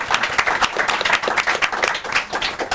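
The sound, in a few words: audience applause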